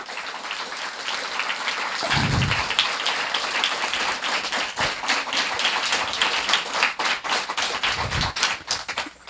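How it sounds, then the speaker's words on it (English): An audience applauds Kathakali performers, a long dense round of clapping from a crowd that swells and stays steady, fairly loud and continuous. "Let's give them a big round of applause."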